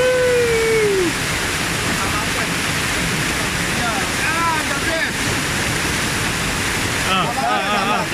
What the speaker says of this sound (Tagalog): Nandito na tayo, malapit sa falls.